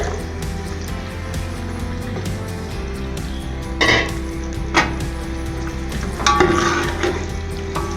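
Two large finely chopped onions frying in a pot for beef pulao, a steady close sizzle broken by a few metallic scrapes and clanks of the spoon against the pot.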